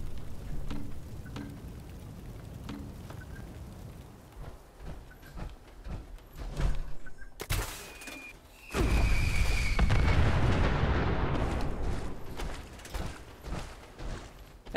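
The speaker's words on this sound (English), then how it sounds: "The explosions don't seem to, like, work right." A Fat Man mini-nuke from Fallout 76 detonates in a sudden loud boom followed by a long rumbling roar, preceded by scattered faint thuds and clicks of game sounds.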